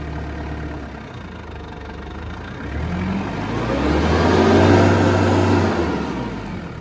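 A Case IH DX55 tractor's diesel engine idles low and then rises as the throttle lever is pushed, revving up to a peak before easing slightly, loud and close with no talk.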